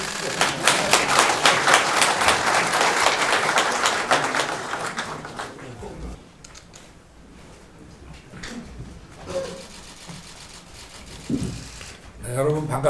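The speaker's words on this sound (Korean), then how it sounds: "마지막에 박수 한번 주시죠." Applause rings out at a presidential transition committee signboard ceremony, a loud burst of rhythmic clapping for about six seconds that dies away into quiet room noise, shuffling and brief murmurs.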